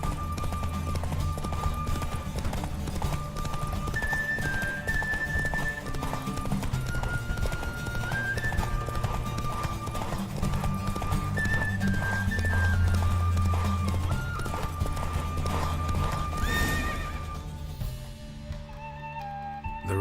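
A horse gallops in a race in the video game The Witcher 3, giving a fast, continuous clip-clop of hooves over a steady musical score, fairly loud and unbroken until it fades near the end.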